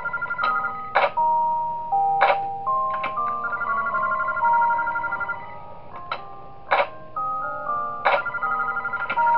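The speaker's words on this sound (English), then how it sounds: "God, Mario's music box is intimidating." Mario's music box jingle from the horror game Those Nights at Wario's 3, a bright plinking melody of bell-like notes repeating in even phrases, loud and alone with no talk.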